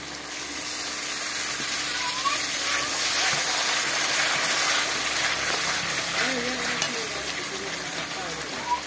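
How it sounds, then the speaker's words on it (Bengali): Cashew and peanut paste frying in a pan for a vegetarian paneer dish, a steady soft sizzle with faint stirring scrapes throughout, fairly close. "পেস্ট করে রাখা কাজু বাদাম আর চিনে বাদাম। এটা ভালো করে কষিয়ে নেব।"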